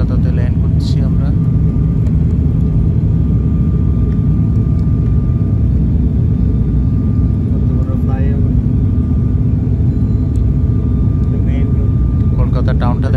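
An airliner's engines rumble steadily through a landing approach into Kolkata, a loud continuous cabin drone with a voice talking over it now and then.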